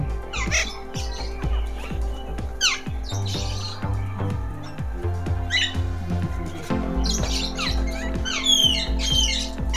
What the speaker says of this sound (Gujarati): પહાડી પોપટ દોસ્તો આપણે નજરે ચડે છે અત્યારે